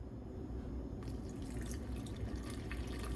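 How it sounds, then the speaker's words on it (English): Two cups of lukewarm water poured into the bowl of an old KitchenAid stand mixer while making Amish bread, a soft continuous trickling and splashing that grows brighter after the first second, faint and close with no talk. "I'm going to add 2 cups of lukewarm water"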